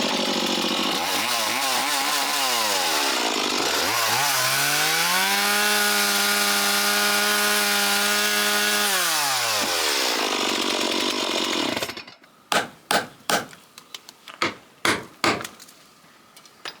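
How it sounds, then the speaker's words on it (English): A chainsaw cuts into an old wooden beam during an abandoned cottage renovation, its engine rising and holding a loud, buzzing whine as it bites through the wood, then dropping to a series of sharp knocks and bangs near the end. "Chainsaw time."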